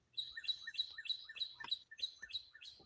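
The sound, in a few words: pet birds chirping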